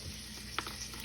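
Bacon fries in a pan with a steady close hiss and sizzle and one brief spatter or pop partway through.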